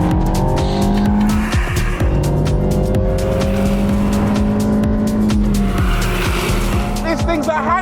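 A turbocharged Alpine A110R Ultime accelerates hard, its engine note climbing through repeated gearshifts with tyre squeal, loud and close, while someone talks over the car.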